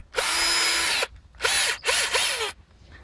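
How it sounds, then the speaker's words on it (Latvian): A power drill boring a hole in a Fragranite composite sink, a loud high whine in one long burst, then two shorter bursts after a brief pause, close up with no talking. "Ieliekam viņu urbī."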